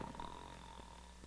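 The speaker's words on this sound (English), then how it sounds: "the only person in this kingdom who can snore is His Majesty" A king snoring, a steady low rumbling snore with a few soft snorts, moderately quiet and alone with no talk.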